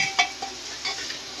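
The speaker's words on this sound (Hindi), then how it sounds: "अभी मसाला से भुंजाई" Jackfruit curry fries with masala in a pan, scraped and stirred in a few short strokes over a soft sizzle, close by with no talking.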